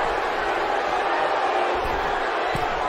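A capacity arena crowd in the wrestling video game WWE 2K19 roars in a dense, steady wash of cheering throughout, loud and continuous with no break.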